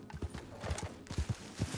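A horse trots in Red Dead Redemption 2, its hooves clip-clopping in a quick, uneven rhythm, fairly quiet and close, with no voices over it.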